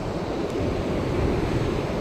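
Ocean waves washing onto a beach, a steady broadband surf roar with a light wind rumble, fairly loud and continuous, with no talking.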